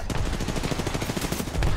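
Rapid automatic gunfire from a match of the battle royale game Apex Legends, a dense rattling burst of shots filling the whole stretch at close range, with a voice faintly underneath.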